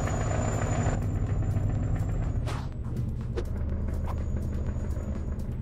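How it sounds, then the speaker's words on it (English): Road traffic in São Paulo, a steady low engine rumble from passing vehicles close by with a faint high whine, easing slightly midway, with no talking. "Alright, well, there's still a lot of traffic here."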